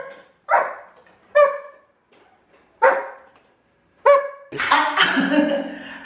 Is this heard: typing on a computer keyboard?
no